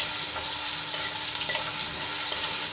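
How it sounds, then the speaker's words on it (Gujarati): Food sautés in hot oil in a pan, producing a dense, continuous close-up sizzle with faint stirring scrapes, with no voices. "અને 2 થી 3 મિનિટ માટે આને તેલમાં આપણે સાંતળી લેવાના છે."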